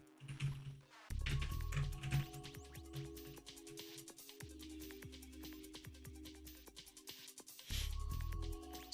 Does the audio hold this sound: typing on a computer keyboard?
yes